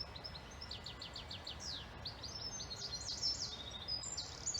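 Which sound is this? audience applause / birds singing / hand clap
birds singing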